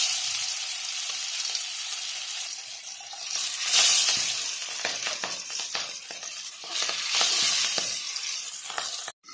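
Fish pieces frying in hot mustard oil in a wok, a loud continuous sizzle with crackling spits and surges as pieces hit the oil, close and alone without voices.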